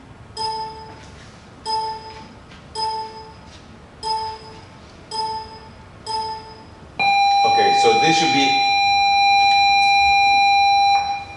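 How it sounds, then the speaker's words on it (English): A bell sounds six evenly spaced tones about a second apart, then breaks into a loud continuous ring lasting several seconds, while a person speaks briefly over it. "that's the bell"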